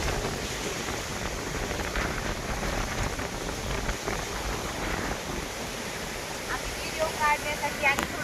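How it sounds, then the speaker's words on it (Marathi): Heavy rain pours down with gusting wind, a dense, continuous hiss and rush of drops filling the whole stretch, loud and close, with a few brief chirps near the end. "पाऊस चालू आहे आणि वारं तर किती सुटले पाहू शकता"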